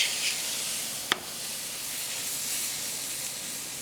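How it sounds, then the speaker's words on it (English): Potatoes sizzle steadily in a hot frying pan for home fries, a continuous bright hiss with one sharp click partway through and no talking. "now we're going to add the potato onto it"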